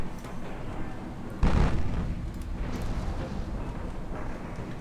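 Torpedo hit on a ship in a naval warfare game, a single deep booming explosion that strikes suddenly and rumbles away over a low background of engine and sea noise.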